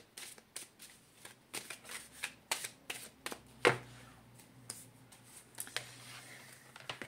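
Tarot cards shuffled by hand in a quiet room, a run of soft riffling and snapping bursts with short pauses and one sharper slap near the middle, no voices.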